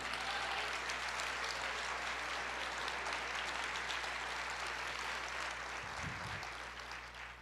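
Congregation applauding the Lord at a church service, a steady, dense wash of clapping sustained for several seconds and fading slightly at the end, with no speech over it.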